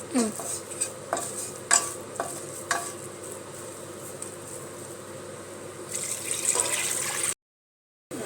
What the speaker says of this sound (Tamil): புளி தண்ணி ஊற்றிடலாம்